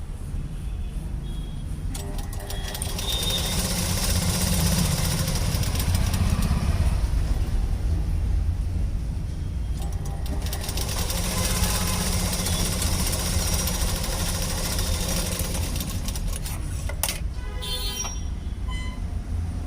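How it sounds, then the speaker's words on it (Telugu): A sewing machine stitches blouse sleeves in one long steady motor whir, close and fairly loud, with brief changes in pace near the start and end. "ఇప్పుడు హ్యాండ్స్ అనేటివి స్టిచ్ చేసుకుంటున్నాను. చూడండి ఎలా స్టిచ్ చేస్తున్నాను."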